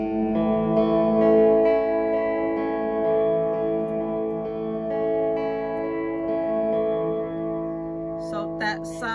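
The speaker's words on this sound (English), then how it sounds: "That is the reverse reverb." Sustained guitar chords through a Fender Reflecting Pool pedal's reverse reverb swell and wash into a long, smeared reverberant tail, ending with a few brief plucked notes.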